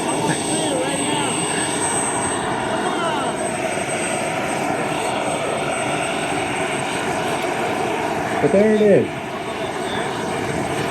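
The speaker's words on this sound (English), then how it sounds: "That's a radio-controlled model turbine jet." A radio-controlled model turbine jet, run on turbine jet fuel, flies at an outdoor family fun-fly airshow, its steady rushing whine holding throughout and swelling briefly near the end, while spectators talk.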